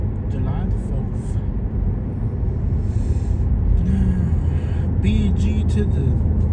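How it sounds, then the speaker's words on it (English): Car driving through Belle Glade, Florida, on an evening drive: a steady low engine and road rumble fills the interior throughout, with a voice talking over it. "We are driving through Belle Glade on a Monday, July the 4th."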